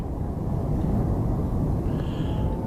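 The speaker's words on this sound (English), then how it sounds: "That is the sound of a tornado." A tornado's steady, roaring wind noise fills the clip, a dense low rumble with no breaks, loud and constant throughout.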